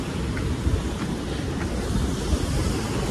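Sea waves and wind at low tide on the shore at Dapoli roar as a loud, steady broadband rush with gusty wind buffeting the microphone throughout and no clear breaks.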